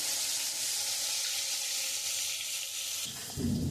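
Steady, dense sizzling of rohu fish frying in hot oil, close and continuous, with a brief soft shift near the end.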